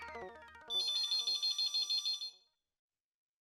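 A phone rings with a rapid, trilling electronic ringtone in quick repeated pulses, preceded by a brief musical tone, then falls silent.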